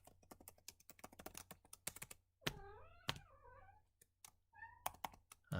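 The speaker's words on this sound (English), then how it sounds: "here you kitty" A house cat gives a few clear drawn-out meows at close range, set between bursts of rapid computer keyboard typing and clicking that fill the rest of the time.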